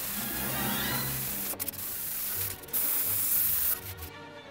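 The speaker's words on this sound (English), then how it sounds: "the crates, I'm now airbrushing black on top of the silver" An airbrush sprays black paint over silver on small model crates with a soft, steady hiss broken by a few brief pauses and gentle sputters, close and fairly quiet.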